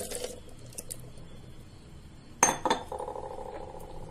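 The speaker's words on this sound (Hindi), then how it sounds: "एक जार लेंगे, उसमें तरबूज डालेंगे।" Watermelon pieces are dropped into a jar for homemade juice. After a mostly quiet stretch come a few sharp clinks and soft knocks in quick succession, then a faint ringing.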